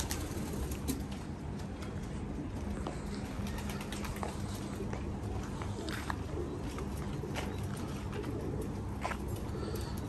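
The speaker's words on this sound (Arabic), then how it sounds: "هاي طيور السباق ان شاء الله باكر افتحها هم اصور لكم اياها" Homing racing pigeons on a rooftop: soft, repeated cooing and light fluttering over a steady outdoor background, with the birds close by and calling on and off throughout.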